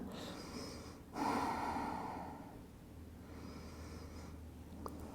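A single close, breathy exhale rushes out, then fades into quiet room hum with softer breathing.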